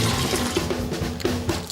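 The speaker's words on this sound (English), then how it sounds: "A splash of milk" Milk splashing and pouring into a large industrial oil drum of eggs, a continuous liquid gush with a few bright splashy accents, fairly loud and close with no speech.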